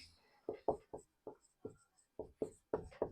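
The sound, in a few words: writing on a board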